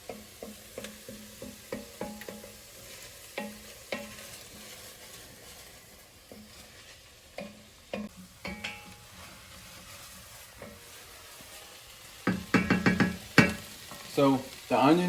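Chopped onions softening in a pan for cauliflower mac and cheese, a steady close sizzle broken by repeated scrapes and clacks of stirring, growing louder and busier near the end.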